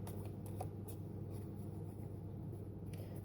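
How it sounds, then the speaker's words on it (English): Tarot cards shuffled by hand in a quiet room, a soft continuous riffling and rustling of the deck over a low steady background hum. "one more shuffle"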